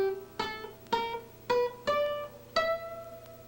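A blues scale is played on a guitar, six plucked notes ringing one after another at an even, unhurried pace, close and clear with no talking.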